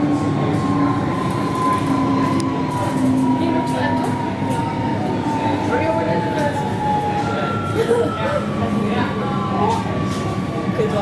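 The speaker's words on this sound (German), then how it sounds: "Deze metro gaat richting Gasperplas." A GVB metro train on line 53 in Amsterdam, riding on type 128 B rolling stock: a constant loud rumble of wheels on rail with faint squeals and clicks, heard from inside the car while people talk quietly.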